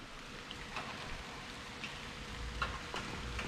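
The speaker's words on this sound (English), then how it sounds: "I'm sitting here at the window, and it's raining outside." Rain falls steadily outside a window, heard from indoors as a soft, even hiss with occasional faint drips and ticks, no voices present.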